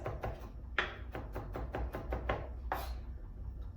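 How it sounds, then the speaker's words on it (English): Rapid knife strokes mincing garlic tap against a cutting board in a quick, uneven series of sharp chops, fairly close and quiet. "you're really just going to keep chopping it until it is minced"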